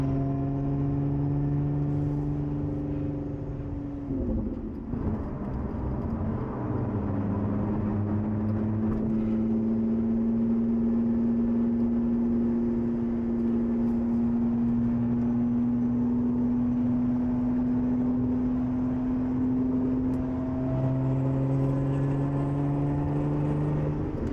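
A Lotus Emira V6 sports car accelerating toward highway merging speed, its engine note droning and rising steadily through the gears with a brief shift dip early on, heard from inside the cabin with no talking.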